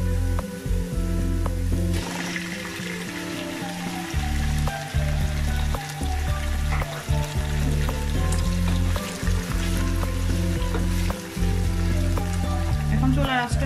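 Small chanda fish sizzling in hot oil with lightly browned onions over a lowered flame, a steady close frying crackle under someone speaking.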